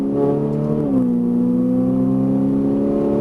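Ferrari 458 Italia V8 engine pulling hard on a track, a loud steady harmonic drone that dips briefly near one second as the gear changes, then climbs smoothly again, close and continuous.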